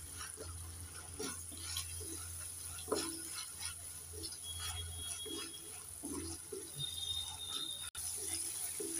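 Ginger, garlic, cumin, coriander and dried red chili paste frying in oil in a pan, stirred with soft repeated scrapes over a low, steady sizzle, fairly faint throughout.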